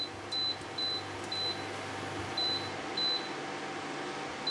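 A kitchen timer gives short, evenly spaced high beeps in pairs and singles over a steady low room hum, fairly faint.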